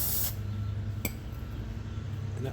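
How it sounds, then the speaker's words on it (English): Cleaner is sprayed onto a Troy-Bilt Colt FT tiller carburetor, a short close hissing burst at the start over a steady low background hum, followed by a faint clink. "Give it a little spray"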